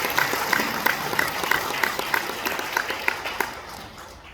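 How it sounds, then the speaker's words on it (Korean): Audience applause welcoming a professor at a university retirement ceremony, a steady patter of many hands clapping at moderate distance that gradually thins and fades out. "박수로 환영해 주십시오."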